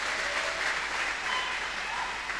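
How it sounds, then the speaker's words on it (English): A church congregation claps during a worship service, a brief, fairly faint and steady patter of many hands that continues through the whole moment. "Shall we clap for Jesus?"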